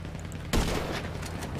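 Gunfire from an armored car in a zombie apocalypse roleplay game: a sudden loud burst begins about a third of the way in after quiet, followed by a sustained rattling, noisy wash that carries on to the end.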